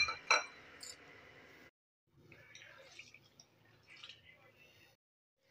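Black urad dal scrubbed by hand in a bowl of water: soft sloshing, squishing and dripping, with a brighter clink near the start, set off by brief gaps of silence.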